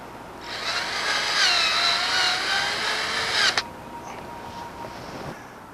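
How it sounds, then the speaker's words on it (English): A power drill drives a self-tapping screw into a metal fence post sleeve outdoors for a deer fence, a loud close whining spin with rising pitch lasting about three seconds, then stopping with a clunk and quieter trailing noise. "Then attach the post to the sleeve with a self-tapping screw."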